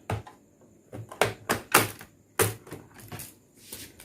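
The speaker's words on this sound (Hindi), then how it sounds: "तो देखिए बैक पैनल खुल गया" A laptop's back panel is pressed and pried open, giving a run of sharp plastic clicks and snaps in uneven bursts, close and fairly loud with no talk.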